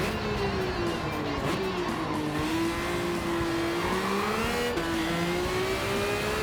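Race cars lapping in Gran Turismo 7, including a Viper, with a steady mid-pitched engine drone that rises and falls as the cars accelerate and shift, loud and continuous throughout with no talk.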